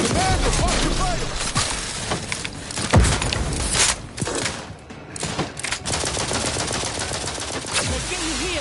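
Rapid bursts of gunfire from The Outer Worlds 2 on PS5, dense and continuous, layered with game effects and a loud crack near the three-second mark, with scattered voice lines.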